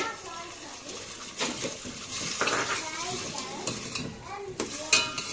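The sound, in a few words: pouring salted brinjal soaking water into sambar pot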